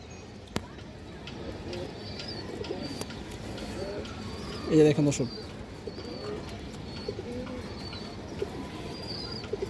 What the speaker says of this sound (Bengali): অনেক সুন্দর একটা কবুতর এবং খুবই হারামি কবুতর খুব চঞ্চল কবুতর এগুলো রোড মাস্টার কবুতর